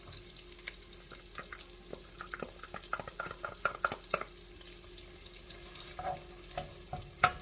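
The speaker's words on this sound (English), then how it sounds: "Sauteed till golden brown." Carrots and onions sautéing in melted butter in a pan, a quiet steady sizzle with light stirring clicks and scrapes scattered throughout.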